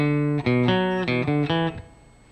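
An electric guitar plays the main riff of a song, a quick run of clear, sustained single notes up and down, with the last note ringing out and fading, no talking.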